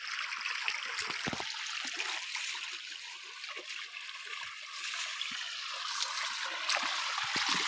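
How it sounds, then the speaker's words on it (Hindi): Water running steadily through farm irrigation channels, a continuous close trickling and gurgling stream with small splashes, no voices. "पानी चालू है अभी, यहाँ से पानी जाता है"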